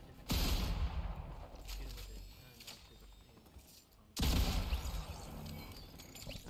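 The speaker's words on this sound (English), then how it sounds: "I hear a fight going on down below." Gunfire from a fight in the Fortnite video game, with bursts of shots and mechanical clatter in two loud waves separated by a brief lull.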